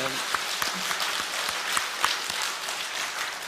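A church congregation bursts into applause during a morning revival sermon, a dense, steady wash of clapping with voices mixed in throughout.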